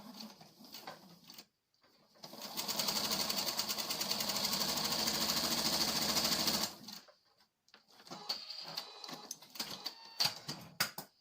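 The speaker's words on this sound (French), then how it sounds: "Et je couds à 1 centimètre." A sewing machine stitches bias binding onto fabric in a steady, fast whirring run of about four seconds, with quieter handling and rustling of the cloth before and after.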